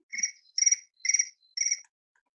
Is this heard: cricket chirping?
yes